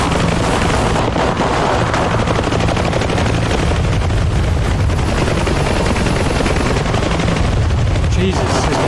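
In the combat flight sim DCS World, rapid gunfire hammers a helicopter, dense bursts of shots and impacts over a constant rotor roar, loud and continuous for the whole stretch.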